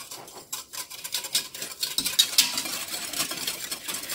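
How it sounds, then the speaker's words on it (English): A whisk beats through milk with yogurt starter in a bowl, rapid rhythmic clicking strokes against the sides, close and continuing steadily. "I'm just gonna mix that in with the whisk."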